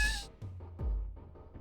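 A cat meows a few times in quick succession, close and moderately loud, with low rumbling tones between the calls.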